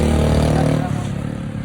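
A motor vehicle on the road rumbles close by, a loud, throaty engine drone that shifts slightly in pitch as it passes.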